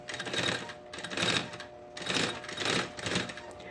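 A sewing machine runs in two clear bursts of close, steady stitching along a backpack panel, pausing briefly in between.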